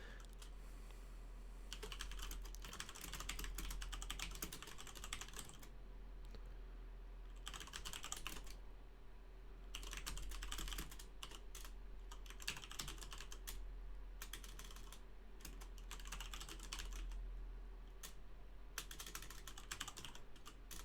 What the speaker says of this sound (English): It's typing sounds ASMR.